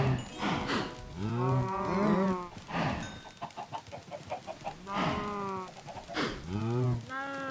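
Cows mooing in a video game farm: several drawn-out moos in a row, with a quick run of chicken clucks in the middle.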